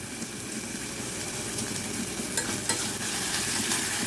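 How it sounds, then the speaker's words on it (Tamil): Steady loud sizzling of small onions frying in hot oil, with occasional stirring scrapes, close up and continuous. "சின்ன வெங்காயம் போட்டுட்டேன் இது வதக்கி விட்டுக்கலாம்"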